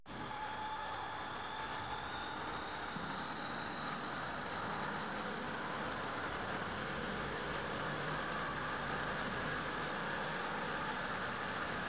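A Tongsheng TSDZ8 e-bike mid-drive motor spins unloaded at maximum speed, giving a steady, dense high whir that holds unchanged throughout, close and continuous with no talking.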